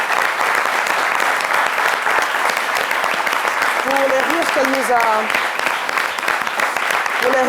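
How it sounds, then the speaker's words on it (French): A studio audience at a televised midday tribute to a comedian applauds loudly and steadily throughout, a dense continuous roar of clapping with a voice speaking over it partway through. "On applaudit bien fort"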